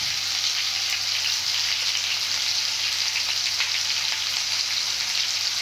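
Potatoes frying in hot oil in a pan for a simple vegetarian dish, giving a steady, close, dense sizzle that holds evenly throughout with no voices.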